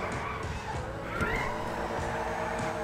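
A car drifts in GTA V, its tires squealing and skidding under a steady engine drone, with short bursts of screech recurring through the moment and faint talk in the background.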